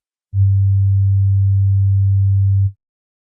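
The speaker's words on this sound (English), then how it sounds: "On oscillator 1, I'll select a sine wave and pitch this down 12 semitones" A single low, smooth synthesizer sine tone, pitched down 12 semitones, holds steady for about two and a half seconds, then stops cleanly.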